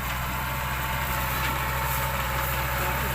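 A farm tractor in a sugarcane field idles with a steady, even low drone, continuous and fairly close, with no other distinct sounds.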